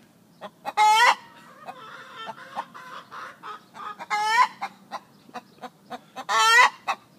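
A hen after laying an egg gives her egg song, a close, busy sequence of quick clucks broken by three loud, long rising squawks, with no voices.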